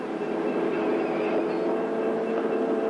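A train rumbles steadily in an old television drama, a continuous close mechanical roar with no break and no voices.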